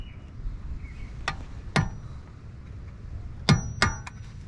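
A hammer strikes a metal punch to drive out a staked axle nut during a 2004 BMW CV axle repair, making about five sharp metallic clanks spaced irregularly over a quiet garage background.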